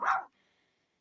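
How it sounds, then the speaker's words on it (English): A single short, sharp bark from a dog outdoors in icy snow, loud and close, then quiet. "Silly dog."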